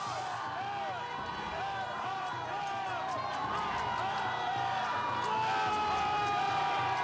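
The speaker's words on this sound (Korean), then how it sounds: "밖에 통해서 환호성이 들리고 있고요" A crowd of supporters cheering and whooping outside the gate of a detention center as a released president walks out, a sustained mass of voices and shouts from a distance, with a reporter talking over it.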